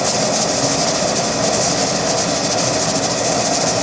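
A pressure canner on a stove hisses steadily and loudly as its weight bobs, a continuous broad steam rush with faint rhythmic flutter throughout.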